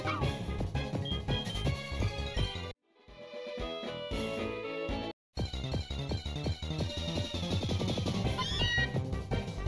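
Meowth's cry repeats again and again in the Pokémon Infinite Fusion video game, a run of bright synthesized cat-like meows over game music, with two brief silent gaps.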